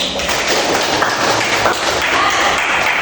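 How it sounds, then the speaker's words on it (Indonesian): Students in a history class clap their hands together, a steady, dense patter of claps filling the room at close range. "Tepuk tangan dulu."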